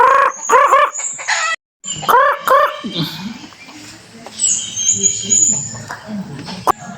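Free-roaming rural chickens cluck and a rooster crows loudly nearby in a countryside yard, with bursts of calls coming in quick clusters between quieter pauses.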